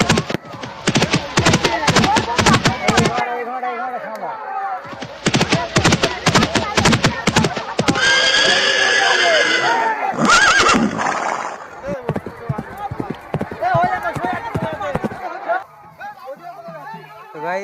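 Horses neigh and whinny repeatedly at a horse race amid loud crowd chatter and clattering hooves, with bursts of noise rising and falling outdoors.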